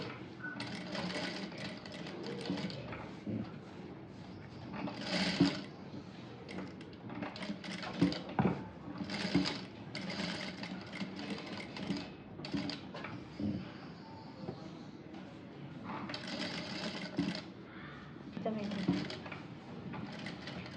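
Domestic sewing machine stitching piping onto a 36-size blouse, running in short bursts with pauses as the presser foot is lifted, under a continuous hum of handling noise and background talk.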